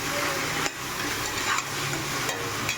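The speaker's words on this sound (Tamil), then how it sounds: "நாலு தக்காளி ஒரு கிலோ வச்சு நல்லா வதங்கட்டும்" Chopped tomatoes sautéing in a pan for paneer biryani, a steady broadband sizzle with a few brief stirring scrapes, close and fairly loud, no talking.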